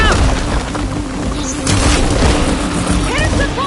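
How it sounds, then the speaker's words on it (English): A heavy, sustained explosion rumbles loudly through a video game battle, dense low booms filling the scene while a voice talks over it. "Hey, big explosion! Watch out!"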